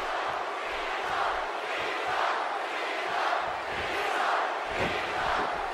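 A WWE 2K18 wrestling arena crowd roars in a steady, dense wash of cheering and shouting, loud and continuous with no commentary over it.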